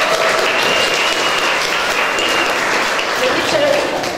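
Steady applause from an audience at a kindergarten season-opening ceremony in Dobieszowice, a dense wash of clapping that holds evenly throughout with a faint murmur of voices underneath.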